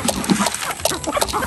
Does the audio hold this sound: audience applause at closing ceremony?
no